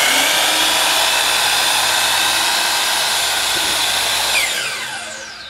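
Dewalt DWS779 12-inch sliding miter saw running freely with no cut, a loud, steady, high whine heard up close that begins to wind down near the end.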